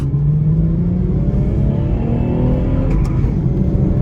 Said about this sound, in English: So second gear, I'm going to plant my foot now and not let off.